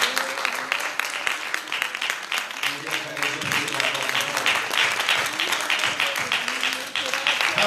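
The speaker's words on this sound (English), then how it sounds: "Clap your hands and give God praise." A congregation claps hands during a Sunday church service, with a steady, dense patter of clapping mixed with voices and tonal sound, heard close and continuous throughout.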